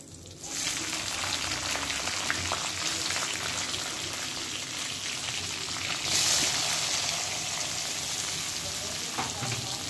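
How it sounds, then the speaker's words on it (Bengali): Chopped onions dropped into hot oil in a home kitchen pan, giving a steady, close frying sizzle throughout with occasional stirring scrapes and a brief louder burst partway through. "এবার পেঁয়াজটা এখানে দিয়ে দেবো তেলে"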